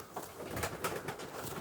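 Racing pigeons, three cocks among four birds kept for local racing, coo softly in a loft, low murmuring calls repeating steadily and fairly close over a quiet background.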